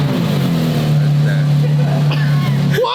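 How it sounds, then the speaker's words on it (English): Twin turbo Ferrari F12 engine held at a loud, close, steady revving drone for a few seconds before cutting off, with people talking over it. "Give it a rev then."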